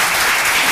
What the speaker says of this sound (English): Mike wants you to clap